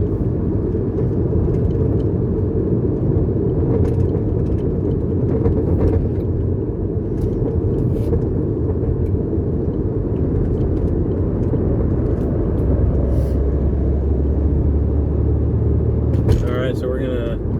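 A 2006 Porsche Boxster S (986) cruising in fifth gear, heard from inside the cabin as a steady, loud low engine drone and road rumble that holds throughout, with a few faint clicks near the end.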